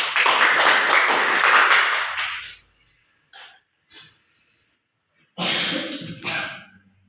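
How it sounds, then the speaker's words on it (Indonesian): A burst of clapping from a group that fades out after a couple of seconds, followed by a few scattered claps and shuffling noises. "Oke, beri tepuk tangan."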